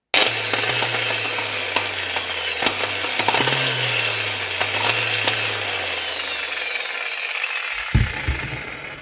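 A faulty angle grinder whines and rumbles unevenly with a wavering, sputtering, coughing motor tone, running loudly for several seconds before cutting out, followed by a clunk.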